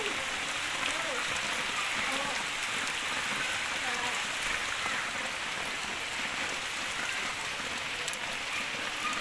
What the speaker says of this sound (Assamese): বৰষুণৰ বতৰ তাকে বৰষুণ দি আছে